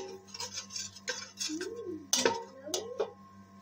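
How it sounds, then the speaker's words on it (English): Flour being stirred in a pan over low heat while making white sauce for pasta: soft scraping with spoon-against-pan clinks and a few sharper knocks, close and moderately quiet. "In a low heat, you have to continuously stir it."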